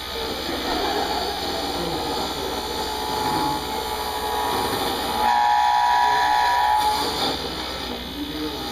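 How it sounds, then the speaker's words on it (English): Woodworking lathe running with its tailstock removed, giving off a steady loud mechanical drone and rumble with a rising whine partway through, no voices over it. "the reason it's making that vibration noise is because I took the tailstock off it"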